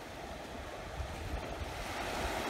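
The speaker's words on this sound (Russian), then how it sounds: "мы находимся на пляже Silver Beach" Surf rolls steadily onto Silver Beach on Samui, a continuous wash of waves with a faint touch of wind over the microphone and no voices.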